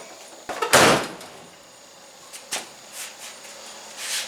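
The door of a 1989 Chevy short-bed pickup under restoration shuts with one sharp, loud metallic slam early on, followed by a few lighter knocks and rattles.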